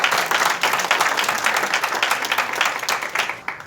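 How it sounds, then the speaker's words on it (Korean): An audience at a church worship service held as a civic rally in Uiwang applauds, a loud, close burst of many hands clapping that stays dense, then thins into scattered claps. "우리 박수 한번 치면 어떨까요?"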